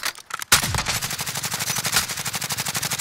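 Rapid automatic gunfire in a video game shootout, after a brief pause opening into a fast, continuous string of loud, close bursts with no talking.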